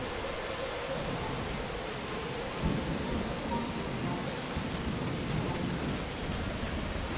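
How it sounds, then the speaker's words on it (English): Steady heavy rain pours throughout, with a low rumble of thunder rolling underneath; no voices. A thunderstorm in the video game Dungeons 4. "Another storm was brewing."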